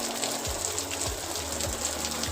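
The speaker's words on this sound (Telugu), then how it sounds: "వర్షం ఏమాత్రం తగ్గకుండా కురుస్తూనే ఉంది ఆ రోజంతా కూడాను." Steady rain pours down outdoors near bamboo plants, a dense continuous wash of falling water with a low periodic drone beneath, no voices.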